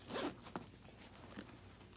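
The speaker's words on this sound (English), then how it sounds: "The zipper is metal" A metal zipper on a leather bag is pulled in a couple of quick, close strokes, with brief rasping zips separated by a short pause.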